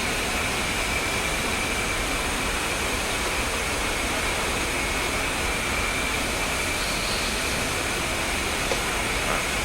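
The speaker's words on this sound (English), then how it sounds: "Start the right engine." A steady, loud roar from the right engine of a DCS World flight-sim aircraft spinning up, with broadband whine and rumble holding constant throughout and no speech.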